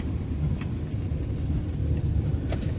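A Maruti Alto VX in first gear climbing a steep highway grade, its engine a steady low rumble heard from inside the cabin, with a few faint clicks and rattles over the drone.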